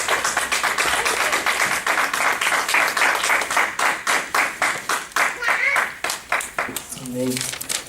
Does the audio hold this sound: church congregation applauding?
yes